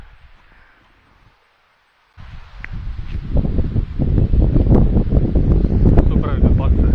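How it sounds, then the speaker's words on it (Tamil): A cool breeze gusting through a forest near a dam, starting faint, dropping out briefly, then rising into loud, continuous rustling and wind buffeting the microphone. "நல்லா சில்லுன்னா காத்து"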